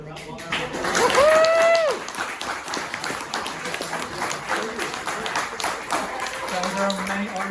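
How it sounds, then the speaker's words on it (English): An audience applauds after a talk on AI photography at Peak Design, steady clapping from a crowd in a room, with a whistle-like tone early on and voices mixed in. "please give Adam another round of applause"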